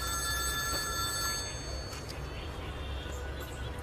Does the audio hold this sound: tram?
no